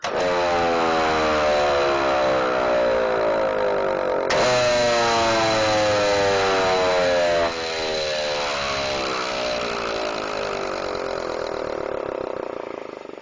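A 110 volt Model 2 electric siren runs up and holds a loud, steady wailing tone with rising harmonics, keeps sounding strongly, then begins to drop off slightly toward the end.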